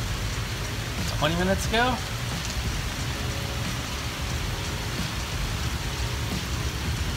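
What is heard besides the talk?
heavy rain pouring down, South Florida summer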